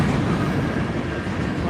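Train rumbling past at close range, a steady, loud low roar with broadband noise that stays constant without breaks.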